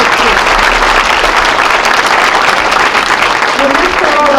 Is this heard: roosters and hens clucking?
no